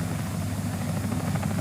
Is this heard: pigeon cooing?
no